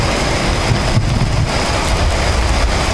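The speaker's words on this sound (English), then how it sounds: "it's now raining, and just in front of me is the thunderstorm that's happening." Rain falls during a thunderstorm outdoors in London, a dense, loud, continuous hiss with low rumbling and wind buffeting the microphone.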